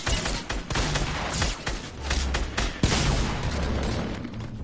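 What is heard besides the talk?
SMG gunfire in a video game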